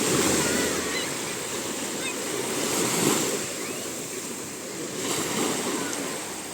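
Adriatic Sea waves wash onto a sandy Albanian beach with a few shells, a steady roar of surf swelling and easing in broad surges, with wind buffeting the microphone throughout.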